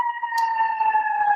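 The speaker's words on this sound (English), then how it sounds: "that would be an ambulance" An ambulance siren outside holds a steady wailing tone with harmonics, fairly loud and continuous, with no one talking over it.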